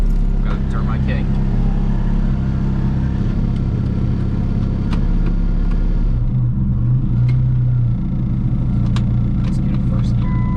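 A PT Cruiser race car engine runs loud and steady with a deep rumbling idle that shifts slightly partway through, while someone talks over it.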